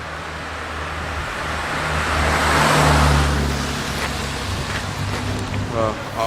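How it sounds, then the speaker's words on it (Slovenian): A car drives past on a road at night, its engine and tire noise swelling to a loud peak in the middle and then fading, with a voice heard faintly. "Dober večer, avto gre."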